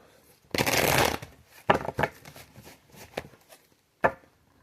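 Tarot cards riffle-shuffled up close: a long crisp riffle followed by several shorter flicks and taps of the deck.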